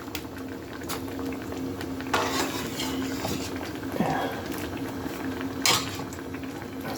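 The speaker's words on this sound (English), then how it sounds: "Oh, that's got a nice boil there." A pot of broth with chicken gizzards bubbles steadily on the stove, a soft rolling simmer with occasional clinks of a utensil against the pot.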